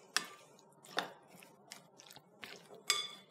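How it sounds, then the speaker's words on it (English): Spoon stirring vegan Mexican potato salad with salsa dressing in a bowl, several soft scraping and clinking strokes at uneven intervals, close and fairly quiet. "Then give this a good stir through."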